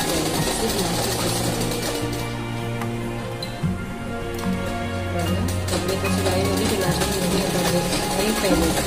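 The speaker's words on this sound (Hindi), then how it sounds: "सिलाई चल रहा है" A sewing machine runs steadily while stitching fabric for a palazzo, a continuous mechanical whir through the whole stretch, with a voice talking over it.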